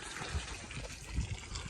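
Water drains from an aluminum pontoon, gushing and splashing steadily close by, a continuous wet rushing with a few low gurgling thumps.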